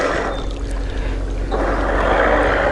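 A fishing bait boat setting off across a public pond, giving a steady, close whooshing drone of motor and churning water that holds even and grows slightly fuller over a few seconds, with no voices.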